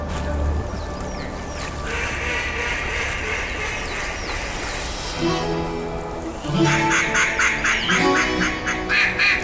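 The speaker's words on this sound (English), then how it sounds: "Ducks start to show up." Ducks quack in bursts against a steady outdoor rumble in flooded timber during a hunt, with a louder cluster of calls near the end and some faint murmuring in the background.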